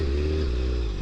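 A motorcycle engine winds down from the top toward the bottom of first gear, a close, steady low drone with a gently falling pitch across one brief moment.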